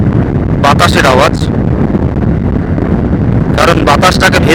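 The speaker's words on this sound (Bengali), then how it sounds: "শুধুমাত্র আওয়াজই পাবেন, বাতাসের আওয়াজ।" Wind roars steadily past a moving Indian Railways train on a morning run, a dense close rush with two short bursts of voice over it.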